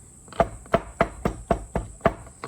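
A wooden spoon thumps as it muddles mint and fruit in a glass. About eight evenly spaced, dull knocks come close and moderately loud in a steady rhythm, with no voices.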